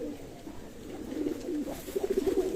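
Pigeons in a loft coo softly in low, repeated burbling calls, a few overlapping phrases at moderate distance with faint background noise and no voices.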